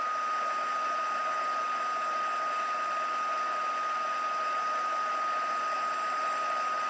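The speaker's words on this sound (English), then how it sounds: "the heat from the heat tool starts to melt the embossing powder and cause it to rise up" A heat tool blows hot air to melt embossing powder for stamping, producing a steady, loud whirring hiss with a high whine that runs unbroken throughout.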